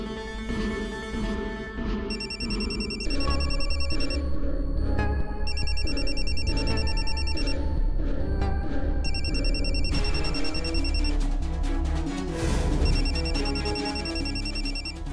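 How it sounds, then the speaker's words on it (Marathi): A telephone rings over and over in a repeating electronic ringtone pattern, loud and steady, laid over music in the background of a domestic scene. "आई, अगं बघ कुणाचा फोन आहे, सतत फोन करतोय तर."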